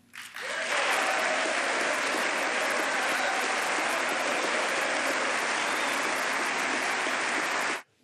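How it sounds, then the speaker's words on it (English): Thunderous, sustained applause from a packed chamber during a State of the Union address, rising suddenly and holding as a steady roar before cutting off abruptly. "Listen to all that applause."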